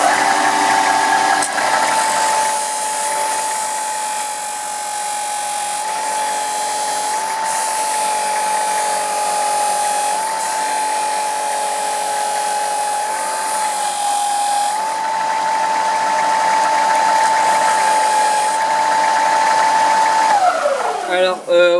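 A high-speed rotary power tool carves a wooden guitar pick, hollowing its middle, with a sustained whining drone that dips slightly under load and winds down at the end, loud and close.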